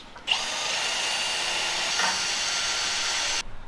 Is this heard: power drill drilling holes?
yes